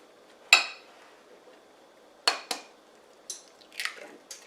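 A whisk mashes butter into sugar in a bowl, giving a few sharp, close clinks and soft squishy scrapes with pauses between them, and nobody speaking.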